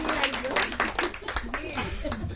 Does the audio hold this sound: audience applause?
yes